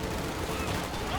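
Gunfire from a Company of Heroes 2 battle between American and Wehrmacht forces, a dense, continuous crackle of shots lasting about a second at steady loudness, mixed with speech.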